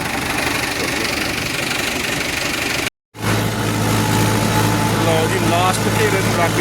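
A tractor engine runs loudly and close while wheat is being sown, a steady, knocking diesel idle with a continuous low hum. It drops out for a brief moment and then resumes at the same level.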